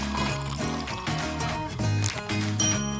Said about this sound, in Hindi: अब इसमें बहुत सारा ठंडा पानी डालें।